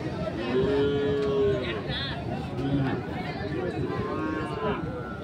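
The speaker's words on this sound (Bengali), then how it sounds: "কিছু গরু আছে।" Sahiwal cattle at a Dinajpur livestock market give drawn-out, low bellowing moos, two or three calls rising over a steady hubbub of crowd chatter and nearby talk.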